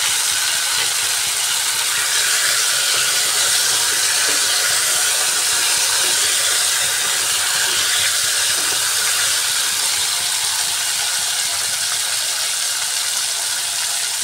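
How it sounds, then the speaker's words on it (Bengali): Chopped tomatoes hit a hot pan with potatoes for a Bengali rui fish curry and give off a constant loud bright sizzle and hiss that holds steady and close throughout. "এবার এর মধ্যে দিয়ে দিচ্ছি কেটে রাখা টমেটো।"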